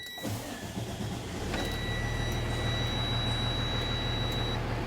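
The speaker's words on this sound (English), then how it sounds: "So I'll start my engine, build my tanks up." A truck engine cranks and catches, then settles into a steady, close, low idle rumble with a faint high whine over it, before air brake tanks build pressure; no talk.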